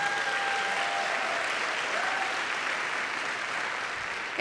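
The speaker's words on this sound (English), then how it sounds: "Please give them a round of applause." A live audience at a dance show gives sustained applause, a dense, even roar of many hands clapping throughout without speech.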